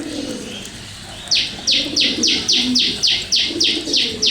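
A pigeon eating chickpeas by hand, with low cooing under a run of about ten rhythmic, evenly spaced pecking taps close by, and no talk.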